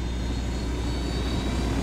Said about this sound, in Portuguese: E um avião logo ali.